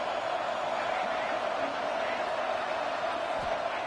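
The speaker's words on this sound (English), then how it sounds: "listen to this crowd noise. The stadium is vibrating." Stadium crowd noise in a Madden football video game, a steady roaring wash of cheering that fills the whole stretch at moderate level with no clear breaks.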